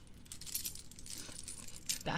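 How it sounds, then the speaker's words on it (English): Keys jingle and jangle in quick repeated shakes, close to the mic and fairly soft, with a brighter rattle near the end, in an ASMR-style setting. "Keys, jingle, jingle."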